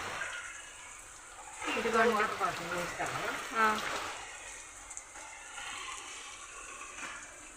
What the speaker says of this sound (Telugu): చిన్నగా కారట్లేదు పెద్ద పెద్దగా కారిపోతుంది నీళ్ళు